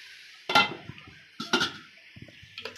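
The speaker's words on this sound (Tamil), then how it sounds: "இடையில முட்டையை நமக்கு வெங்காயத்தில் கிளறிக்கலாம்" Spoon scraping and clinking against a pan while stirring egg with onions, three distinct metallic stirring strokes spaced about a second apart with softer scrapes between, close and fairly loud.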